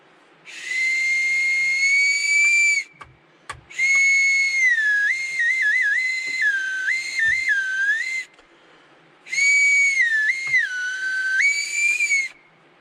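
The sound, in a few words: homemade survival whistle being blown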